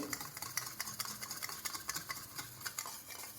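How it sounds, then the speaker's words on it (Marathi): Rapid, rhythmic whisking of yogurt in a bowl, quick repeated strokes tapping and swishing steadily throughout. "अशा विस्करच्या साहाय्याने आपल्याला ते फेटून घ्यायचे आहे"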